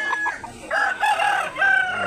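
A rooster crows at a chicken market in Consolacion, Cebu, a couple of short clucks followed by two rising, drawn-out calls, close and clear with little else around.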